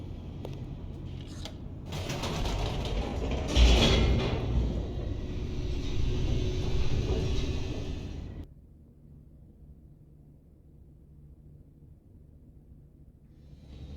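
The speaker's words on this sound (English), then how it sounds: "The elevator raced downward, plummeting towards an unknown fate." A video game elevator in The Stanley Parable rumbles downward with a steady mechanical hum and a whooshing rush that swells midway, then cuts off abruptly to a faint low drone.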